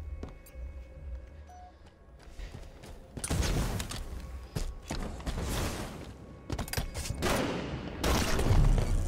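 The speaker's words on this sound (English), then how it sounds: "Stop shooting me" Halo 5 gunfire rattles in quick bursts and sustained automatic volleys with mechanical clanks, loud and close, building after a quieter opening.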